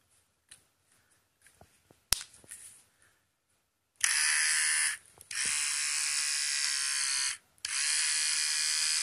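A battery-powered Gold Master Star nose hair trimmer is handled with a few small clicks, then its motor switches on with a loud, close, steady high-pitched buzz that cuts out twice briefly before resuming.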